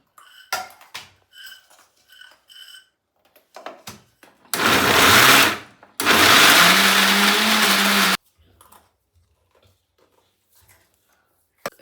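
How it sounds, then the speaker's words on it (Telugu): A mixer grinder blends tomato paste in two loud, close bursts of a few seconds each, the second with a rising pitch, framed by quiet clinks and handling noises. "నేను మొత్తం మిక్స్ పట్టేసుకుంటా పేస్ట్"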